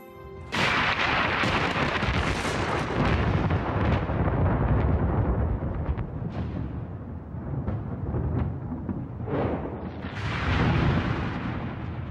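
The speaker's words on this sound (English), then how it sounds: "During thunderstorms, electric charges build up, creating lightning bolts" Deep rolling thunder during a thunderstorm, a long continuous rumble with several louder cracking surges, loud and sustained throughout with no voices.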